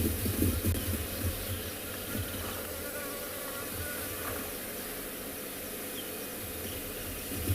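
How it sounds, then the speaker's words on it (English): A bee buzzes close past the listener during an early-morning safari drive, loudest at the start and then thinning into a steady insect drone over faint outdoor ambience, with no talking. "I hoped you heard that buzzing of the bee that just passed my face too."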